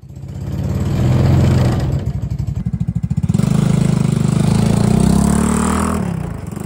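A Mini Jeep 125 ATV engine fitted with a NIBBI carburetor idles close by while still cold, a steady low rumble that briefly dips into a choppy, pulsing patter before settling back into an even, loud idle.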